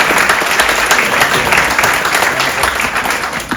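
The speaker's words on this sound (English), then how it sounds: "round of applause" An audience aboard the Voyager of the Seas cruise ship gives a loud, continuous round of applause for the hotel director, with dense close clapping and crowd noise throughout.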